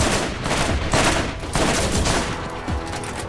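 Enemy gunfire in the Borderlands video game, a rapid barrage of loud overlapping shots and bursts hitting the player, continuous with brief dips in intensity.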